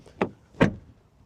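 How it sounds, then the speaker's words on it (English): A VW Golf R Black Edition car door, two solid thuds about half a second apart, heard close up and fairly loud with near silence around them. "Door closing sound"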